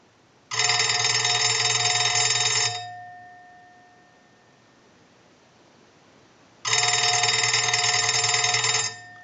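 An Automatic Electric three-slot payphone rings from an analyzer-sent ring cycle: two loud, close bursts of bright metallic bell ringing, each about two seconds long, separated by a quiet pause of roughly four seconds.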